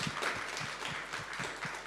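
Audience applause at a conference session in Berlin marking the Ethereum merge, a steady wash of hand claps from a crowd sustained for a couple of seconds.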